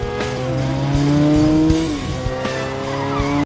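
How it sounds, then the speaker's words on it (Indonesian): Motorcycles launching at the start of a street race, with loud tire squeals and rising engine whine as several bikes pull away together, close and sustained. "Dog yang dulu menantang Kid balapan juga ada di tempat itu, dan langsung menantang Kid hingga balapan pun dimulai"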